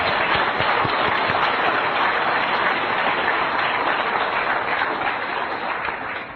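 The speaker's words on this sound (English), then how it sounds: "I think we should all thank him with some applause for that." Sustained applause from a conference audience thanking an event organizer, a dense, steady wash of many hands clapping alone for about six seconds, tapering slightly at the end.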